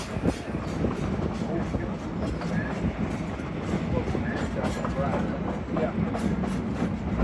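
A 1926 Baldwin-built steam locomotive train on the Georgetown Loop Railroad runs steadily and loudly close by, its continuous rumble and rattling wheels filling the scene throughout.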